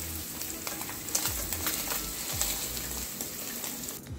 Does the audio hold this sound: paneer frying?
yes